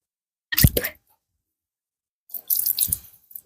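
Water splashing and spitting while rinsing the mouth during ablution, two short wet bursts close to the mic with a silent gap between them.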